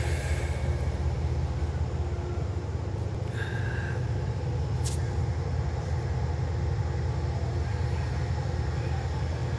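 Steady low rumble of a train at the Albany station, a broad continuous drone with a brief hiss and faint squeal partway through, no talk.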